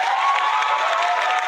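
Canned applause played from an applause button, a bright, even burst of clapping and light crowd cheer lasting just over a second, loud and unbroken with no voices over it.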